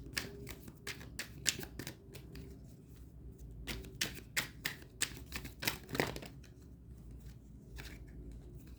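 Oracle cards being shuffled by hand: a run of crisp riffling flutters and quick papery slaps in irregular bursts, close and moderately quiet over a faint low background hum, with no speech.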